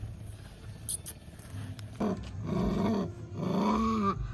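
A dog growls low and close in three rumbling bursts after a moment of quiet shuffling, each growl rising and easing off.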